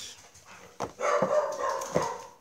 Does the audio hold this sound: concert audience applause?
no